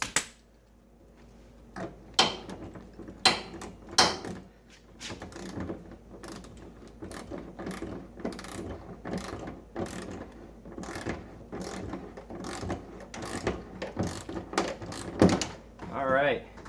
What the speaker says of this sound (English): Make sure we tighten this clamp down.